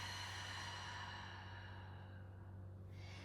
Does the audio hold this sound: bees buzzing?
no